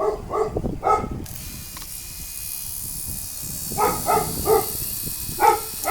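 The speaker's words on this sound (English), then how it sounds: "if my dog would stop barking, you might be able to hear it go" A dog barks in short bursts, several sharp yaps in the first second and again near the end, over a steady mechanical hiss from a 1982 C3 Corvette.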